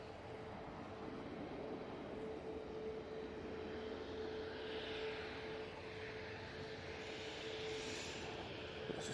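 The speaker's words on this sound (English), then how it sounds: "it should be Jet2 A321 going out" A Jet2 Airbus A321 airliner departs Manchester Airport, its engines giving a steady, broad roar that holds constant throughout at moderate distance, with a faint tonal whine running beneath the rumble.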